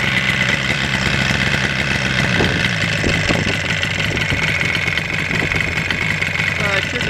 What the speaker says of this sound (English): love the sound and smell of those 2 strokes